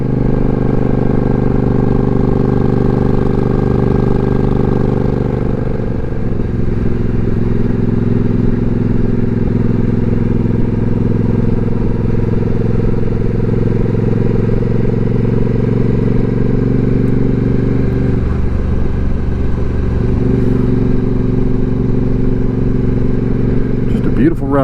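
A motorcycle riding a curvy mountain stretch of Georgia Highway 136 east of Jasper in the Appalachian foothills, its engine droning loud and steady throughout with shifts in pitch as it changes speed.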